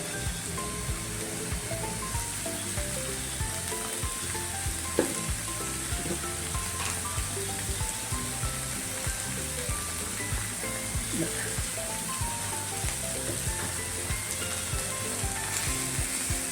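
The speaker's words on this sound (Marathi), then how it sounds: "हळद आणि धना पावडर थोडीशी भाजून घेऊया" Turmeric and coriander powder roast in a pan with softened onion and tomato for a whole masoor dal curry, giving a steady, dense sizzle with a few stirring scrapes throughout, close and continuous with no talking.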